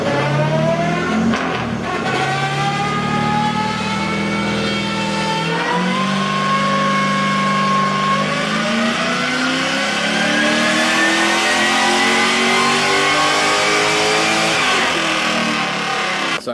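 A Nissan S13 engine revs hard on a dyno, pitch climbing steadily through long pulls with a brief drop between, loud and close with no talking.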